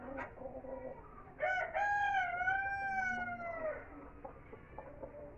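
A Rhode Island Red rooster lets out one long, loud crow close by, with softer hen clucks and farmyard chatter from a small flock in Pakistan before and after it.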